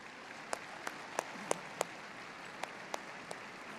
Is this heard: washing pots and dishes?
no